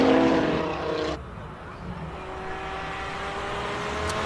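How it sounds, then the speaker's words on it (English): A stock Audi RS3 sedan climbing a hillclimb course: a loud, close engine roar with strong tones that drops away suddenly, then a fainter, steady engine drone fading into the distance. "stock standard RS3 sedan going up the hill"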